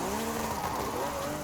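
A Lamborghini SC20 in Forza Horizon 5 spinning out, heard as a loud, steady engine roar with shifting pitch and a smeared tire scrub, close and continuous with no talk.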